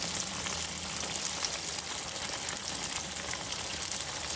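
Tomato sauce with sugar and garlic cooking in a pan, a continuous close bubbling and sizzling texture that stays steady and moderately loud with no voices.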